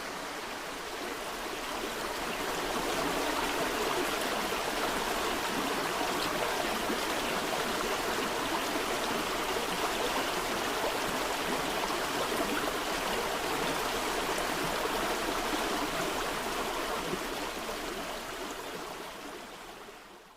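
The River Exe flows as a steady, continuous rushing stream on its way toward Exford past farmland. The water noise is loud and close, fading in at the start and slightly tailing off at the end, with no voices.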